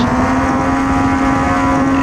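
A Superstock diesel pulling truck roars at a truck pull, its engine holding a loud, steady, droning note throughout with no pauses.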